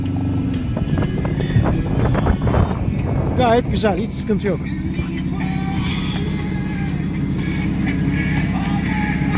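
A boat outboard motor drones steadily throughout at about 5 knots against the wind, with wind buffeting the microphone, while someone talks over it close by.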